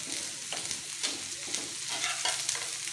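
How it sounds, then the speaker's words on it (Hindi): Onions cooking with partly cooked okra (bhindi) in a pan over a medium flame give a continuous, fairly loud frying hiss with repeated stirring scrapes throughout. "अब हम प्याज को पकाएंगे इसमें"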